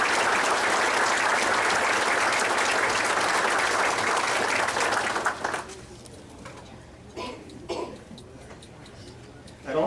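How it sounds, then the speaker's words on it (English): A round of applause at a speedway racing banquet, dense clapping from the room for about five seconds that stops abruptly, followed by scattered coughs and murmurs in the quieter hall. "I'd like to give them a round of applause for their efforts."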